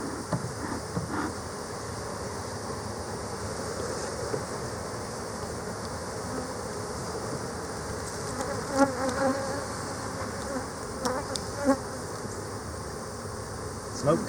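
Honeybees drone in a steady, dense buzz at an open hive, holding close and even throughout, with a few louder passes of individual bees near the end.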